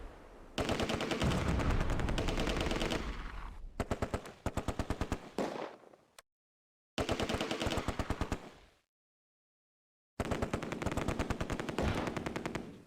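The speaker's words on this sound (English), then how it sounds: "An MG42 opens up from near the graveyard." An MG42 machine gun fires in long, rapid bursts in the Close Combat video game, loud and close, with sharp cutoffs and silent gaps between three main bursts.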